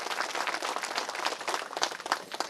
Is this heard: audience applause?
yes